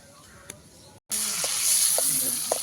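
Oil frying in a pan for a picnic meal where half-boiled eggs are being cooked; a quiet stretch with a faint clink gives way to a loud, steady hiss with a few knocks of a utensil.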